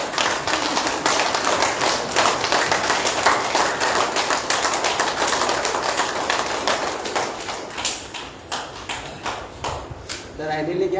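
Participants at a yoga class clap together in a fast, even rhythm. The claps are loud and sustained for several seconds, then grow sparser and softer toward the end, with voices present.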